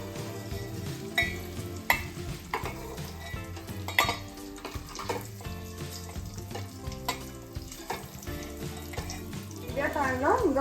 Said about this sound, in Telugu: ఈ ఎగ్స్ పైన కలర్ మారేంత వరకు ఫ్రై చేసుకుందాం, గోల్డెన్ కలర్ వచ్చేంత వరకు.